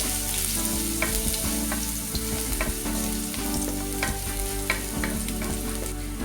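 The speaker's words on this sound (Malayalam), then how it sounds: "ഇനി ഇതിലേക്ക് 1 ടീസ്പൂൺ വെളുത്തുള്ളി ചെറുതായിട്ട് അരിഞ്ഞത് ചേർത്ത് കൊടുക്കാം" About a teaspoon of finely chopped garlic sautés in hot oil with a steady, close sizzle, broken by the scrape and clatter of stirring throughout.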